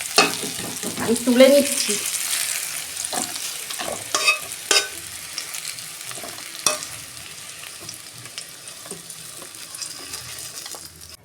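Teasel gourd (kakrol) sizzling in oil in a pan with stirring, a steady bright frying hiss throughout, spatula scrapes and clinks, and brief talk at the start.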